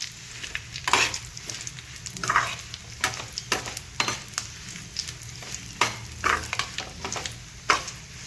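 Chillies frying in a pan for tomato chutney, a steady sizzle broken by repeated sharp scrapes and clinks as a utensil stirs them against the metal, with no talking.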